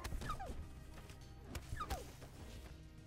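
Dogs barking in Fallout New Vegas, two quick yapping barks heard twice at low level over steady background ambience.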